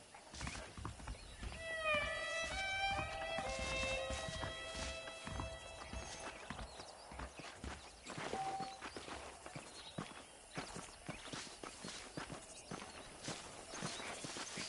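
Horses in the video game Red Dead clip-clop along in a steady walking rhythm, with a neigh-like tonal cry and light tones early on, continuing at a moderate level throughout.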